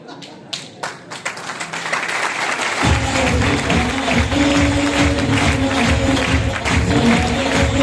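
An audience bursts into applause after a few scattered early claps, building to sustained loud clapping that continues steadily to the end.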